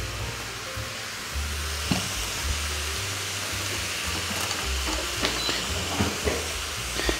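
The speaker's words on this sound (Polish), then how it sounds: "widzę, że tu śmietanka się fajnie zagotowała" Cream coming to a boil in a pan for a mustard chicken sauce, giving a steady close hiss and sizzle with faint bubbling pops throughout, no talking.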